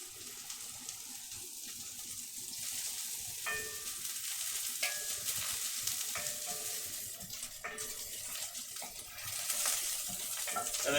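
Mushrooms frying in an overloaded pan over high heat, a steady broadband sizzle running the whole time with a few short clinks and stirring scrapes, close and moderately loud, no talking.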